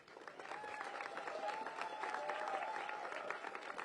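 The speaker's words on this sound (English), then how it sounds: "Let's give them a great round of applause." An audience applauding faith leaders at a political gathering, a sustained round of clapping and crowd noise at a moderate distance, holding steady for several seconds.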